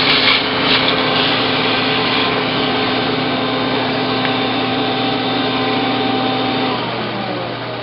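A power tool cuts through a wide piece of steel with a steady, loud, high-pitched whine and grinding that holds throughout, then tapers slightly near the end.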